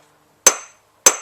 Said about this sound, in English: When I hammer it like this, it creates a beautiful shiny line